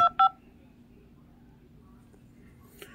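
Telephone keypad tones are pressed to enter a voicemail password: two short, clear beeps at the start, then a low steady hum and a faint click near the end.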